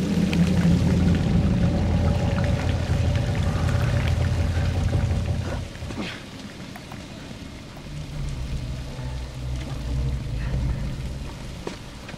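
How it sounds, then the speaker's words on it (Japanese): Water pours down steadily like a shower in The Last of Us video game, a dense continuous splashing that fills the first half and then thins into a quieter wash with scattered drips. "水が天然のシャワーだぜ。"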